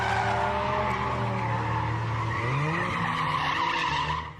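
Car tyres screech as a car drifts at a street and track drift circuit in Kyushu, one long sustained squeal over a droning engine, loud and close with no talk.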